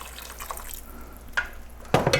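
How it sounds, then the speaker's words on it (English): Water is poured into a pot of thickening nettle soup: faint trickling gives way to short, sharp splashing bursts near the end. "so I'm going to add a little bit more water."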